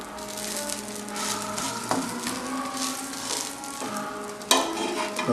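Egg dosa cooks on a hot pan with a steady close sizzle and frying hiss, broken by a couple of brief scrapes or taps, with no talking.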